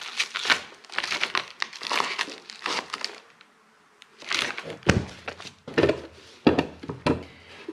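Stitched fabric parcel from Pakistan being opened by hand, with crinkly rustling and tearing bursts, close and moderately loud, broken by a short pause midway.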